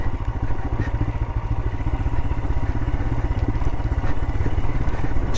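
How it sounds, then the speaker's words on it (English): A motorcycle engine brakes on a steep desert descent, giving a steady, close, loping low rumble with mechanical clatter that keeps on without a break. "Let the engine brake us a bit."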